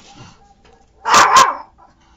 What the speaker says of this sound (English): the dogs across the street were barking up a storm and Stella started